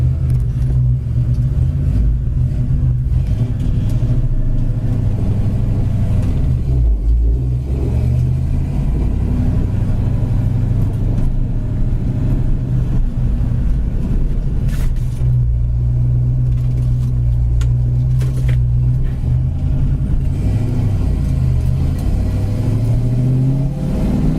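A 1967 Ford Mustang idles with a steady, deep exhaust rumble throughout, loud and close, with slight swells in revs.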